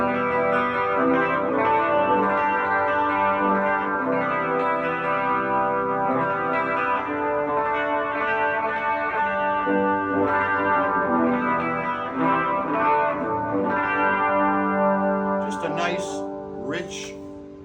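Electric guitar played clean through a Rockman chorus unit, shimmering sustained chords and notes ringing continuously, full and close, with a brief brighter flourish near the end.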